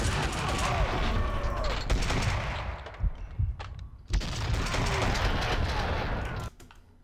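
Gunfire in the Max Payne 2 video game: dense, loud bursts of rapid shots and booming impacts filling most of the moment, briefly dropping off before another heavy volley, with faint voices under the shooting.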